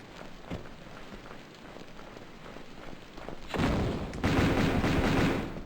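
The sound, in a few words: grenade launcher firing in a video game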